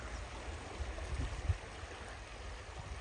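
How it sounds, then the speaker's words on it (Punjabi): River water surges through a breached earthen embankment at Burj Tahil Das, a steady, low, rumbling rush that stays fairly distant and even throughout, with a few slightly stronger swells. "ਆਹ ਸੁਣੋ ਪਾਣੀ ਦੀ ਆਵਾਜ਼"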